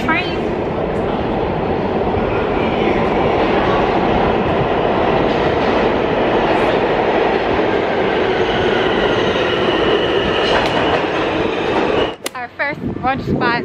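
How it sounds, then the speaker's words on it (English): A train rumbles past loudly and steadily, wheels clattering on the rails, before the noise drops away abruptly near the end. "Like, oh, the train."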